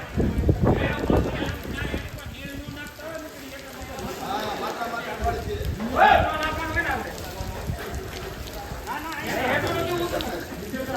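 Rain falls at a cow shelter, a continuous patter on surfaces with a voice talking over it throughout.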